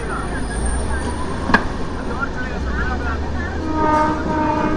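The Bokaro Express from Dhanbad to Alleppey rolls along with a steady low rumble and wheel noise, a brief sharp horn-like burst near the middle, and voices talking over the travel sounds.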